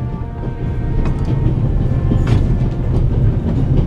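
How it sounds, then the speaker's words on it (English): A train car shakes and rattles in the point-and-click mystery game The Raven Remastered, a steady low rumble with scattered metallic clicks and knocks throughout, fairly loud with no talking. "May I ask you where this beautiful train is taking you?"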